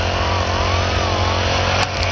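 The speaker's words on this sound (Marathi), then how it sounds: "जे गवत आहे ते बघा कसं कट करतायत मशीनच्या मदतीने." A motorized grass-cutting machine trims grass in a pomegranate orchard, its small engine whining at a steady high pitch, loud and close throughout, with a brief dip near the end.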